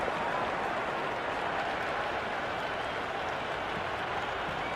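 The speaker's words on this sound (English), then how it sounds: "It's evident and ever so audible that the crowd is at near bursting point at today's play." Stadium crowd noise in the Cricket 26 video game during a T10 match between Pakistan and New Zealand: a dense, steady roar of cheering and clapping at constant loudness throughout, with no talk.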